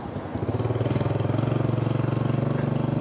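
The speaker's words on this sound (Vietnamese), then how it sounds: "Để em test mấy cái phần động cơ coi sao." A 2010 Vespa Piaggio scooter engine starts up and settles into a steady, close, fast-pulsing idle that runs on alone with no talk.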